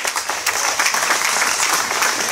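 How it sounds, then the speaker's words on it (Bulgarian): A crowd applauds steadily at a cycling race ceremony, a dense patter of many hands clapping, fairly close, with no voices over it. "Аплодисменти за Виталий Бус."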